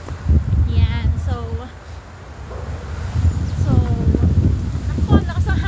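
Gusty, cold wind buffets the microphone outdoors with low rumbling roars while a person talks in Filipino and English over it.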